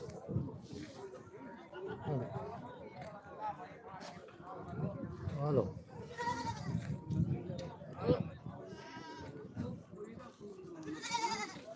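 Goats bleat several times amid a busy crowd at the weekly goat market on Chhanna Road, Dhanaula, their wavering cries rising over steady background chatter and voices.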